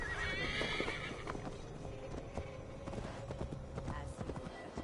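A horse in Assassin's Creed Valhalla whinnies loudly near the start, followed by a steady clip-clop of hooves on ground in a forest setting, continuing throughout.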